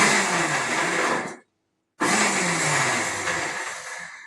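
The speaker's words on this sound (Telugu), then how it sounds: "Okay, mixie jar." An electric mixer grinder blends a coarse paste of cumin and other ingredients in its jar for a ragi dosa, whirring loudly in two bursts with a brief stop between them.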